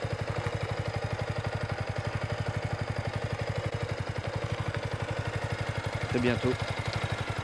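A Yamaha MT 125 motorcycle, newly run in, idles with a steady low rhythmic pulse throughout, and someone speaks briefly over it near the end.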